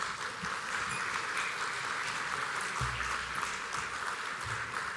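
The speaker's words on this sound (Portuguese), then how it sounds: "Uma salva de palmas para os jogadores." Applause for the players at a conference session on democracy and good governance in Cabo Verde, a soft, continuous patter of clapping from an audience heard at some distance.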